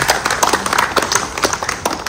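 A crowd gathered for a housing society's Independence Day flag hoisting applauds for the Indian Army with brisk, continuous clapping of many hands.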